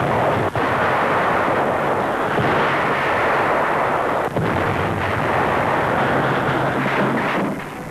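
Battlefield gunfire and explosions from tanks advancing in 1945 Germany form a dense, loud, continuous roar with heavy booms and rumble, on old newsreel sound without narration.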